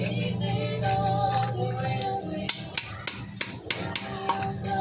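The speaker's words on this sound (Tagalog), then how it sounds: "ikutan natin ng sinsil para matanggal yung nakadikit na simento" Hammer driving a chisel to chip stuck cement off a surface, about seven sharp metallic strikes in an uneven rhythm over steady background hum, close and loud.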